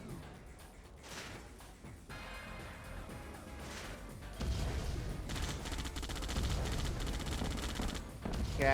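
Cannon fire aimed at a miner in a real-time strategy video game, heard as distant bursts of rapid gunfire and crashes that swell into a louder continuous barrage of battle noise.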